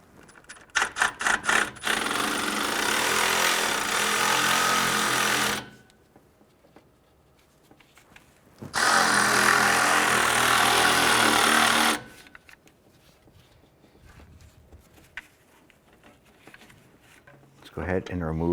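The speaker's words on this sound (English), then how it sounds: "Using our 10mm socket, we're going to go ahead and loosen" A power tool drives a 10mm socket to loosen a timing belt bolt on a 2001-2005 Honda Civic. A quick run of rattling clicks leads into two long, loud whirring bursts separated by a quiet pause.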